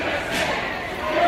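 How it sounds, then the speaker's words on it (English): A protest crowd fills 42nd Street in Times Square, New York, a dense steady roar of many voices and shouting close around, with no single voice standing out. "the crowd that's coming behind me right now is the one that's happening there"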